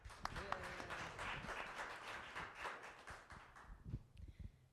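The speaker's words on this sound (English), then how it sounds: "Let's hear it for Melissa and Atadon" An audience at a venture capital panel gives a fairly faint round of clapping that thins out toward the end, with talk and stray thumps mixed in.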